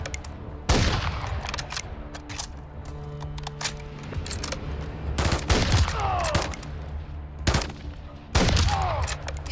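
Gunfire in Call of Duty: Modern Warfare III, with sharp loud shots in a steady run through the first half, then heavy bursts near 5 s, 7.5 s and 8.5 s over a low rumbling game background.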